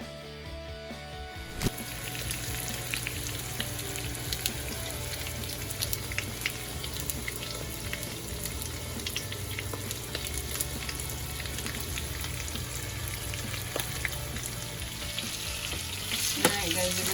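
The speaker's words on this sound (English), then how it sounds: "Just let it fry." A ribeye steak fries in a pan with a steady, dense sizzle and crackle throughout, close and fairly loud, with small pops scattered across the sizzle.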